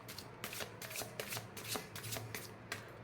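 Tarot cards are shuffled by hand in a quiet room, a steady series of soft riffling slaps and swishes repeating through the clip, close and alone.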